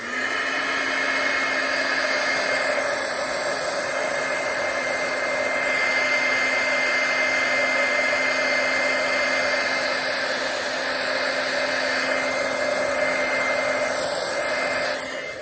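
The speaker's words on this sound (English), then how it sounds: "I do need to heat set this one more time so that those spatters will set in" A heat tool blows steadily to set watercolour spatters on a card over heat embossing, a continuous loud whooshing hum like a hair dryer that runs close and unbroken for the whole stretch with no talk.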